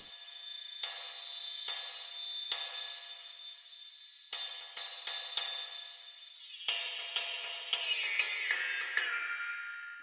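Synthesized cymbal hits from a Drumsynth cymbal engine ring out as bright, metallic, wacky tones. Repeated sharp strikes blur into dense clusters, and the pitch slides downward near the end. No one speaks.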